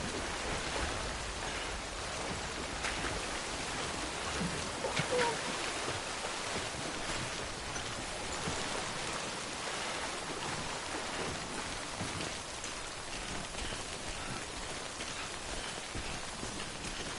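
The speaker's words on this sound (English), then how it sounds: "Don't stay out in the rain any longer than you have to." Timefall rain in the video game Death Stranding, a steady dense hiss of rainfall that stays constant throughout, with no voices.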